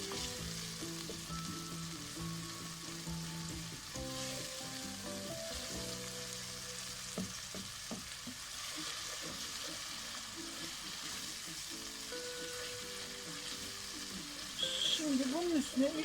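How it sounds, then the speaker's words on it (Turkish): Tomato and pepper paste frying and being toasted in a pot for Turkish soup, a steady close sizzle with occasional stirring scrapes throughout, ending in a brief louder burst. "özleşene kadar salçalar iyice kavrulsun."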